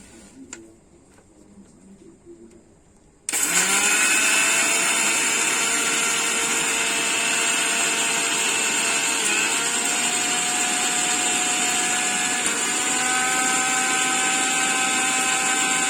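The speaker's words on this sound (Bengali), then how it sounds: "সেগুলোকে ভাজা হয়েছে, তো হাফ হাফ করে মিক্সিতে গুঁড়িয়ে নিচ্ছে" An electric mixer grinder grinds roasted rice into powder, starting abruptly after a quiet moment and then holding a loud, steady motor whine with rattling grains, close up and with no talk.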